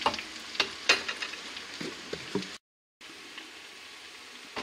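Bread sizzles and crackles in hot oil, a steady frying hiss with sharp pops and stirring clatter, briefly cutting out before the sizzle resumes.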